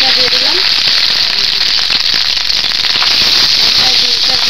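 Fish roe dropped into hot oil with nigella seeds sizzles loudly and steadily, a dense close-up crackle with scattered pops throughout.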